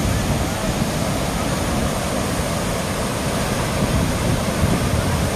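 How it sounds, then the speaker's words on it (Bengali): Water crashes down at Ushri Falls on the Ushri river near Dhanbad, a dense, unbroken roar that is loud and close and holds steady from start to finish. "যেমনি জলের রং তেমনি আওয়াজ, উপর থেকে জলটা আছড়ে পড়ছে।"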